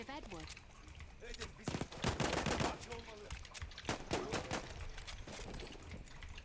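Rapid automatic gunfire in Battlefield 1 while the player slides, with rattling bursts of shots at close range under a voice talking over the action.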